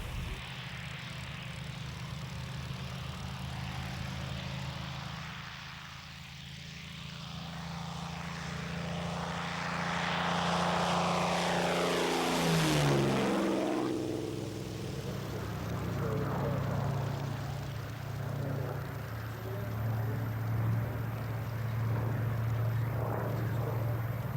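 Hawker Hurricane fighter, serial LF363, flying at the Duxford airshow in 1999, its propeller engine droning from a distance, swelling to a loud pass with a sweeping pitch drop, then fading away.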